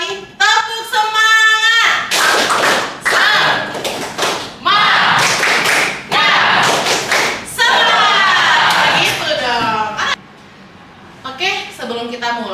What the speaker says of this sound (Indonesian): tepuk semangat dulu ya satu kali